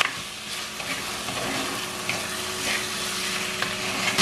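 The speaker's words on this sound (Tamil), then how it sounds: "மிக்ஸ் பண்ணி விடுங்க." Boiled eggs sauté in a Jaffna-style sardine curry, a steady sizzle of frying with a few soft stirring scrapes, close and moderately loud, no voices.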